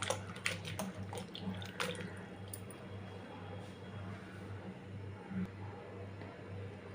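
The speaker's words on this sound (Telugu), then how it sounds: "వాటర్ వేసుకొని బాగా" Cut bottle gourd pieces are washed by hand in a bowl of water, giving steady close sloshing and splashing with a low continuous hum underneath.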